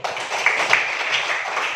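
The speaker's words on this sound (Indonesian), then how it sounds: "mari kita berikan tepuk tangan yang mulia" A classroom audience gives a brief round of applause, many hands clapping together in a dense, steady patter at moderate loudness, with no talking over it.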